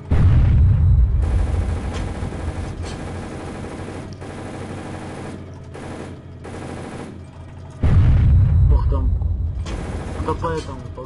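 Gunfire aimed at a Hanomag halftrack in the video game Iron Front on ArmA 3: loud bursts of automatic fire and booming shots, with a short lull in the middle before another heavy burst.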